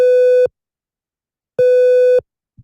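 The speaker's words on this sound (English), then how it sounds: "listen to triangle wave" Two sustained synthesized triangle-wave tones, each a steady pitch with soft odd harmonics, the first about half a second and the second a bit over half a second, separated by silence and cut off abruptly.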